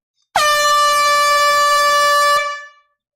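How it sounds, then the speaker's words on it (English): A single loud, sustained air horn blast holds steady for about two seconds, then cuts off with a short ringing tail. "This air horn is potent."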